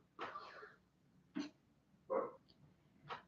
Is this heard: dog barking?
yes